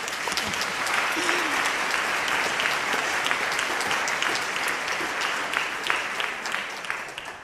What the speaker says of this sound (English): This is also worth an applause, I think.